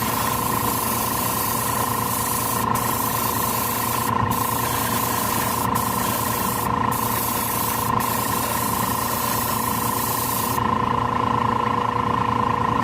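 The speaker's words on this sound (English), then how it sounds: "I'm spraying at about 30 psi, by the way, so fairly high velocity" Steady, loud hiss of a Harder & Steenbeck Colani airbrush spraying paint at about 30 psi with a 0.4mm tip, continuous, with a constant tonal whine underneath and a few brief pauses in the flow.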